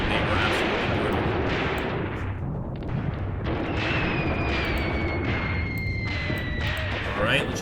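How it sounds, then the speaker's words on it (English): Artillery bombardment rumbles through the WWII wargame Graviteam Tactics: Mius Front as a steady wall of distant shell blasts and gunfire, with whistling incoming rounds near the end and a voice talking over it. "they show no mercy, especially in their artillery bombardments"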